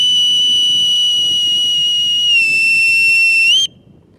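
A boatswain's pipe holds a steady piercing whistle, then slides up to a higher shrill pitch and cuts off abruptly, loud and close over faint background noise.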